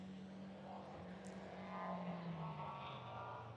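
A rally car passing on a forest rally stage in Southern Ohio, a faint distant engine drone rising slightly as it approaches, with low steady background rumble.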